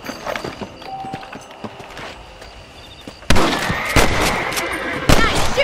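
Rifle gunshots aimed at rabbits in the video game Red Dead Redemption, with a few loud sharp cracks cutting in near the end over quieter outdoor ambience and hoof-like clatter.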